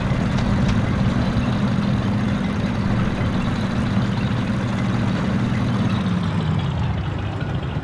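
A tank engine running in the World War II shooter Forgotten Hope 2 during the Siege of Tobruk, a steady low heavy drone that holds throughout and eases slightly near the end.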